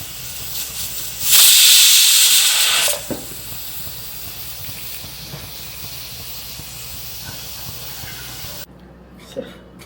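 Steam hisses loudly for about a second and a half over a pot of mutton boiling with ginger garlic paste for crispy mutton 65 pakoda, then settles into a quieter steady simmering hiss with faint clinks.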